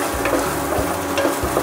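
Chopped onions fry with garlic in melted butter in a pan, a steady close sizzle broken by several soft stirring scrapes, with no one talking.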